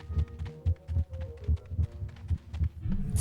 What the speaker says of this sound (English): all those people who complained about the heartbeat noise for low health